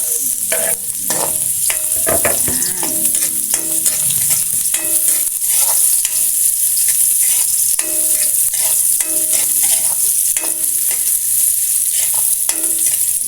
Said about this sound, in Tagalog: Isa lang natin hanggang mag-brown yung ating garlic at yung ating sibuyas.